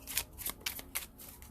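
Tarot cards are shuffled by hand in quick, crisp riffling bursts, soft and close, with no voices over them.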